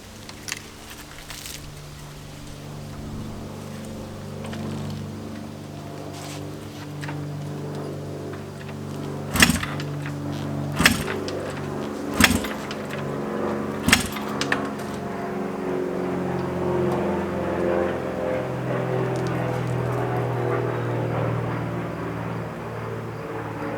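Honda CB400F cafe racer motorcycle engine running at a steady idle for a long stretch, with a handful of sharp clicks or pops near the middle, close and fairly quiet.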